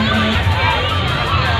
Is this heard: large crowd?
yes